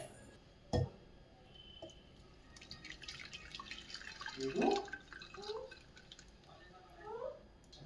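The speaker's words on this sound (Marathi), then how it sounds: "आता हे एका गाळणीमध्ये आपण गाळून घेऊया" Watermelon juice strained through a sieve at home, sounding as soft drips and light liquid trickles with one sharp knock near the start, quiet and intermittent.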